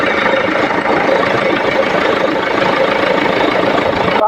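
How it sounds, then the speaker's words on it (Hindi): Steady, loud mechanical drone from near the steering pump of a Tata Harrier with a steering noise fault, running continuously with the engine at idle, close up and without speech. "तो ये स्टीयरिंग पंप के पास से आवाज़ आ रही है इसकी"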